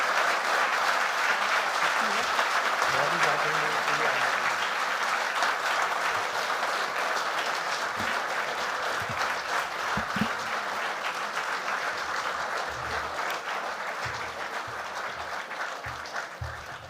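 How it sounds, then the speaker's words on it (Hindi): A mushaira audience gives sustained, dense applause that carries on evenly for the whole stretch and thins slightly near the end, with faint crowd murmur underneath. "एक बार इतनी तालियां हम बजाएंगे जब तक प्रोफेसर वसीम साहब स्टेज तक आएँ"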